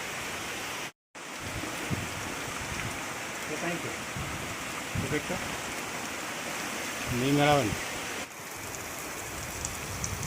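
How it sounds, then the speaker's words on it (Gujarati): Steady hiss of rain falling on a village farm, constant and moderately loud, with a few faint voices and a passing tonal sound in the background. "ને વરસાદનો કંઈક આવો નજારો છે"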